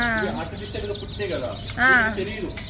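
Newly hatched chicks from incubated eggs cheep in high, rising peeps that overlap close to the microphone, with a louder burst near the end and a person speaking over them.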